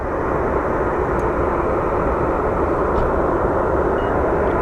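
An airplane rolls along a taxiway at Phoenix Sky Harbor airport, its engines producing a loud, continuous low roar and rumble that holds steady throughout, with no voices.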